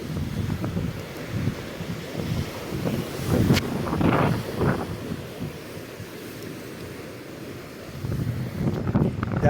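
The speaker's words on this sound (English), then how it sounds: "the wind is troubling us" Strong wind buffets the microphone at sea while fishing from a boat, a steady gusty rumble with waves in the background and no clear voices.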